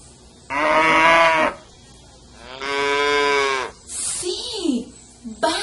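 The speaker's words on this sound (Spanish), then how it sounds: "Sí, vaca." A cow moos twice in long, loud, resonant calls, followed by brief softer sounds, heard near and without talk.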